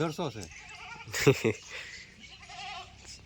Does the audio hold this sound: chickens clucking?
no